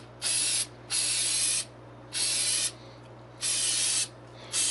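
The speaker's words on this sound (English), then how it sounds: "you spray it on. I usually spray on quite a bit" Oil sprayed onto a K&N air filter in four bursts, each about half a second to a second long, with brief pauses between them, a close, bright hiss over a low steady hum.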